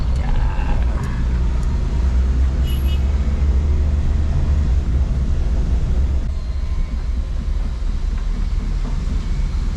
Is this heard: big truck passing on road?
yes